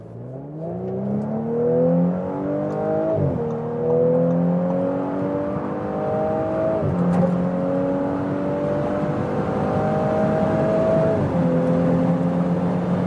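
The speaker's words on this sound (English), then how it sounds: "And now, as comparison, the Audi 6-cylinder petrol." Audi S5 convertible with a 3-liter V6 petrol engine accelerating on the road, its steady whirring drone climbing in pitch through three gear changes, close and continuous with no voices.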